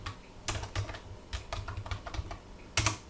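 Bursts of irregular keystrokes on a computer keyboard, quiet and close, with short pauses between clusters of taps.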